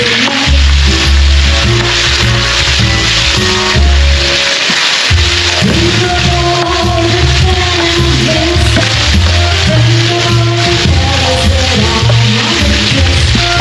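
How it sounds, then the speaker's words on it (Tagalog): Garlic and onions fry in a hot pan for a Filipino menudo, a loud, dense, steady sizzle that runs without break apart from a short dip near the middle, with the clatter of stirring mixed in. "I-fry natin sa bawang at sibuyas."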